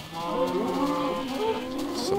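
Cows mooing in the video game Minecraft, several drawn-out, wavering low moos overlapping one another across a couple of seconds, fairly close and steady with no talking.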